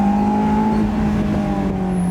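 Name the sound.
Honda S2000 naturally aspirated engine revving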